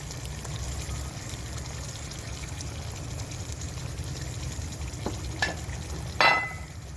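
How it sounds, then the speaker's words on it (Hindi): Fish pieces cook in a pan over very low heat for a curry, giving a steady soft sizzle throughout, with a few faint clinks and a short scraping stir near the end. "इसमें डाल दीजिए और इंतहाई हल्की आंच पर 5 मिनट एक साइड से और 5 मिनट दूसरी साइड से इनको पका लीजिए।"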